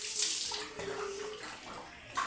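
Water running steadily from a tap into a basin, a continuous hissing splash that stays fairly close and even, with a brief louder gush near the end.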